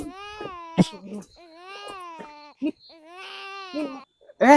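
An infant wails in repeated rising and falling bursts, close and loud, with short gasping breaths between cries and brief voices cutting in.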